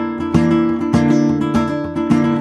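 Flamenco guitar strummed in a bulería falseta with the bass note left out, four bright rasgueado chord strikes spaced evenly about every 0.6 seconds, each ringing into the next, loud and close with no voices.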